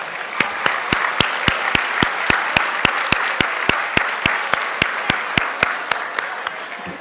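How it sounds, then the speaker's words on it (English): A single pair of hands claps at an awards gala, about twenty sharp, evenly spaced claps over a steady hiss. "Let's give Johnson & Johnson a round of applause."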